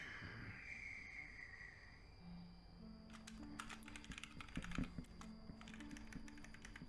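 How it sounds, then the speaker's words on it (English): Keys clatter on a computer keyboard in quick, uneven bursts of typing, close by and fairly soft, starting after a few seconds of quiet room tone. "I'm typing it up for you guys."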